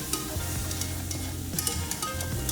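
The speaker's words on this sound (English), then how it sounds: "melt 3 tablespoons of butter in a separate skillet or pot. Then whisk in 1/2 cup of flour and stir constantly for about 1 to 2 minutes on a medium heat." Flour being whisked into melted butter in a pot over medium heat, giving a soft continuous sizzle broken by quick scraping strokes of the whisk, close up and without speech.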